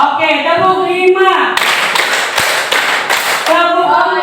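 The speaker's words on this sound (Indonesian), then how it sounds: "Oke, tepuk 5." Students in a classroom clap in unison in a brisk five-beat pattern, loud and close, with speech heard before the clapping starts and again as it ends.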